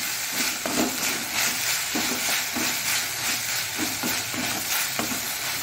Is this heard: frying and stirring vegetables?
yes